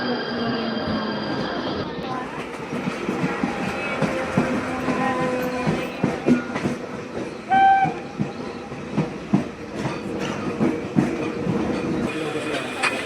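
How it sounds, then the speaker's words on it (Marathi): A train pulls into a crowded station, rumbling and clattering along the tracks with rhythmic clicking, a brief whistle-like tone, and people talking in the background. "आली रेल्वे."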